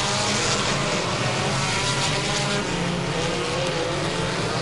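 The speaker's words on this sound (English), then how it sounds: "white car there in 5th place is Bobby Seymour's car." Race car engines roar steadily on a racetrack, a loud, dense wash of engine noise with no break and no talking, heard from trackside.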